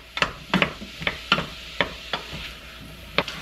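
Green beans being stirred in a hot pan, each stroke a sharp scraping clack over a soft, steady sizzle, the strokes landing in a loose, uneven rhythm close by.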